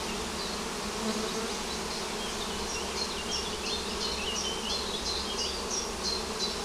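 Steady buzzing of many bees around a new hive fills the air, a continuous droning swarm with individual insects zipping past nearby.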